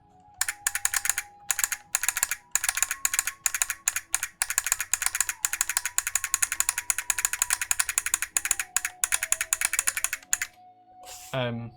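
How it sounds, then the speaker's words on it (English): A mechanical keyboard fitted with a solenoid clacks through a fast burst of typing, each keypress snapping with a sharp pop in an irregular rapid rhythm, close and loud, and a quiet electronic tone trails at the end. "There's the solenoid popping off every time I hit a key"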